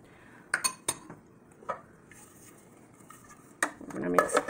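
A spoon clinking and scraping against a bowl while mixing pumpkin seeds, turmeric, garlic powder and cumin for a homemade veggie burger; a few sharp separate knocks, then a quicker cluster of clatter at the end, close and clear.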